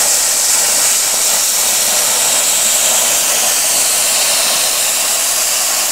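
A plasma cutter slices a metal strip while powered by a small air compressor, producing a loud, steady, unbroken hiss that lasts the whole stretch.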